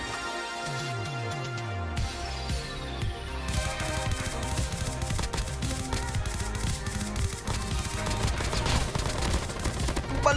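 Rapid gunfire rattles nonstop in COD Mobile, dense clustered shots with mechanical clicks, loud and close throughout.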